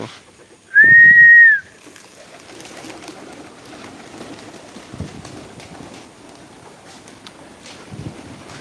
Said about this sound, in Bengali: এ হচ্ছে আমার কবুতরগুলো দেশি গোলা আর রেসার আর গ্রিবাজের কিছু কচ আছে